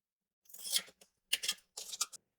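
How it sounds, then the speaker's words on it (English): Scissors snip through paper in three short bursts of crisp cutting strokes, close and clear with quiet gaps between them. "I'll take my scissors and I'll do the same thing I did for my smaller piece."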